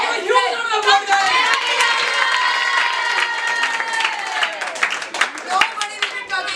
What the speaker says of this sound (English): Give a huge round of applause, guys.